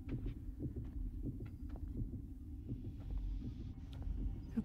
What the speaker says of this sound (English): I hear the heartbeat go down.